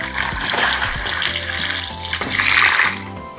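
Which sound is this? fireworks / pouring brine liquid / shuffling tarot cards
pouring brine liquid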